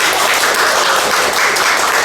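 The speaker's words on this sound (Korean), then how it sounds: "우리 오늘 방문해주신 모든 분들께 우리 박수로 좀 환영합시다" A church congregation applauds to welcome visitors during a Sunday service, a loud, dense burst of many hands clapping close by, sustained evenly through the brief moment.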